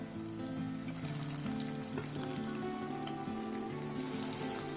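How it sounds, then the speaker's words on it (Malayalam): Chicken cutlets frying in hot oil over a medium flame, a steady close sizzle with fine crackle that runs through the whole stretch alone, with no one talking. "എണ്ണ ചൂടായതിന് ശേഷം നമുക്ക് കട്ട്ലറ്റ് ഓരോന്നോരോന്നായിട്ട് ഇട്ട് കൊടുക്കാം"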